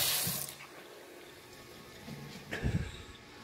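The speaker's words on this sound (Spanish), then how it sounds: "Mire el agua." Water running from a tap at a kitchen sink in a brand-new house in Florida, a soft continuous flow with brief louder splashes near the start and again toward the end.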